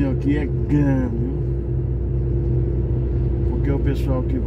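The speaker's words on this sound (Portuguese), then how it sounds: "Esse caminhão aqui é grande" A large truck rumbles along a highway in Minas Gerais, Brazil, a steady low engine drone heard close while someone talks over it.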